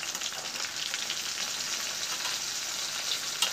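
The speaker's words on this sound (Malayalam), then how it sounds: "ചിക്കൻ നമുക്കിത് നല്ലോണം ഫ്രൈ ചെയ്ത് കൊടുക്കാം" Chicken pieces frying in hot oil over a high-medium flame: a continuous, even crackling sizzle with brief sharper pops and no talking.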